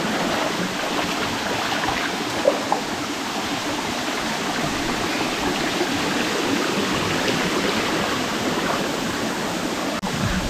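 Mountain stream on Sathuragiri rushing over rocks, a loud, steady broadband roar of flowing water heard up close throughout, with no talking.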